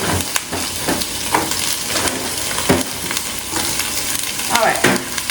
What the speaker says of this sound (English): We let that saute for about 2 minutes